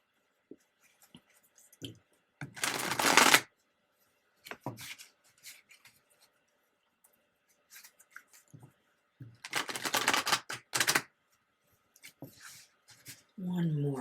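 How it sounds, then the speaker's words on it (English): Tarot cards being shuffled, with two bursts of crisp riffling a few seconds apart and softer handling noises between them. "One more shuffle."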